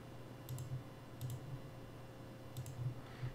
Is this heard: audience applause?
no